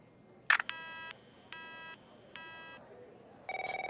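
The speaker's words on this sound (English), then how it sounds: "My phone's ringing off the hook here." Telephone ringing in the video game The Operator, heard as three evenly spaced bursts of electronic ringing tone after a short click, followed by a different beeping tone at the end, fairly quiet.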